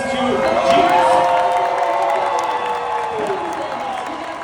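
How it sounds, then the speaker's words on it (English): A crowd at a film promotion event applauds and cheers, steady clapping with whoops and shouts rising early and then holding, a voice or two audible over the noise. "Let's give a big round of applause to these two geniuses."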